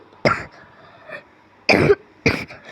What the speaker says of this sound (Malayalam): ചുമ.